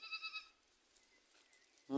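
A goat gives a short, wavering bleat. After a quiet pause, a second bleat starts abruptly, louder and nearer.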